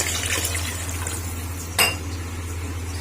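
Water poured from a glass into a cooking pot while making pea rice, a brief splash and clink near the mic over a steady kitchen hum, with no talking.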